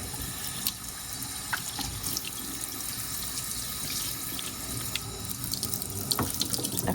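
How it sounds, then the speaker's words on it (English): Running tap water pours steadily over a lapping stone as it is rinsed of metal residue, a continuous close splashing hiss with small clinks and knocks now and then. "And then go ahead and rinse it off."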